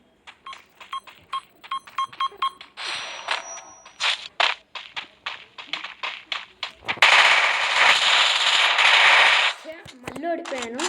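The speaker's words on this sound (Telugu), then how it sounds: "మా అన్న బాంబులు వేస్తున్నాడు" Gunfire and bombs in a one-on-one video game match between brothers: rapid bursts of machine-gun fire, then a long, loud roaring explosion. A short electronic tone follows at the end.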